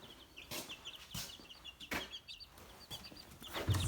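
Young chickens, including white Ameraucanas, cluck softly in a coop, with faint, scattered chirps and clucks under sharp intermittent clatters and knocks nearby.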